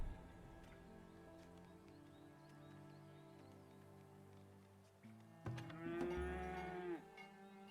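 Cattle in a city-building game give a single drawn-out moo near the end, loud and close over a quiet bed of soft game music and faint ambient tones.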